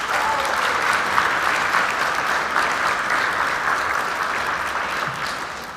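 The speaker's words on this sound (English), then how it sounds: "I just wanted us to clap for Fatima Lohman." Steady applause from a graduation audience for an absent clinical lab sciences graduate, dense and even throughout before easing slightly at the end.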